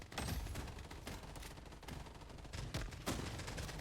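Rapid bursts of gunfire from the video game Blood Strike, a dense volley of sharp cracks with several louder shots standing out toward the end, loud and close with no talking.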